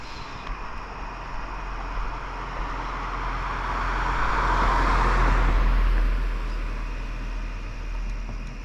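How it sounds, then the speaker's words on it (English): A single car passes along a road, its broad tire and engine rush building gradually to a peak midway and then fading away, heard alone against steady outdoor background noise. "we'll wait till this car comes out"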